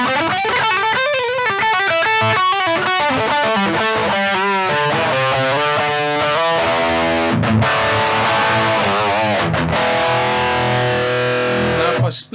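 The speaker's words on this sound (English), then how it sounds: "I'm going to play it on full distortion" Heavily distorted Grainger Attis electric guitar on the bridge humbucker, played alone, thick saturated chords and riffs ringing out loudly, then cutting off abruptly at the end.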